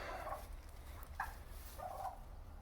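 A turkey gobbles in two short bursts about two seconds apart, at moderate distance, over a low steady rumble with no talking.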